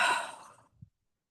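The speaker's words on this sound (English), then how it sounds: "take a deep breath" A single deep breath let out as a long, soft sigh that fades over about half a second, followed by a faint low puff, then silence, close and quiet with no talking.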